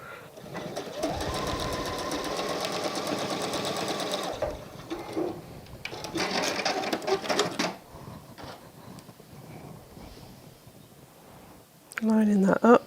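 A sewing machine stitches a quilt block for a wall hanging, running in bursts of rapid mechanical whirring separated by pauses, with a voice talking briefly near the end.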